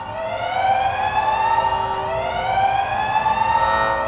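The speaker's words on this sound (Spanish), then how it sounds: "la alarma de sirena comenzó a chillar" A loud siren wails continuously, its rising and falling tone sustained and close, with no voices.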